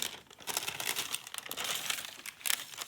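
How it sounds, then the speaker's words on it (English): Parchment paper being handled and crinkled up close at a fabric collage workspace, giving a continuous, fairly quiet rustle with bursts of sharper crackling throughout. "So I just use my parchment paper to draw around it."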